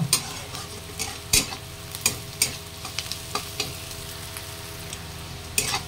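Onions fry in a pan with turmeric over a constant sizzle, broken by repeated sharp scrapes and clacks of a spoon stirring, close by and with no talk.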